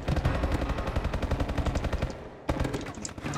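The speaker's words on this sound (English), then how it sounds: "Sn6 the third, guys, probably one of my favorite submachine guns." The Sn6 submachine gun in Call of Duty: Advanced Warfare fires in loud, rapid automatic bursts, with a sustained stream of shots, a brief break, then more firing.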